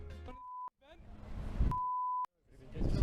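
Two steady, flat censor beeps, each lasting about half a second or more, cut hard over casual Turkish conversation, with voices chattering before, between and after them.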